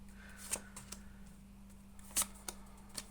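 Quiet crisp flicks and snaps of tarot cards being shuffled, a few scattered taps and one sharper riffle over a faint steady hum.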